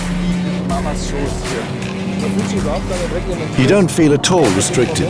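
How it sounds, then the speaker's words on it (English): A 2021 BMW M3 driving at racetrack speed on the Nürburgring Nordschleife, its engine droning steadily and climbing in pitch through gear changes, partly under a voice. "One lap on the Nürburgring Nordschleife in the new BMW M3 is so fast."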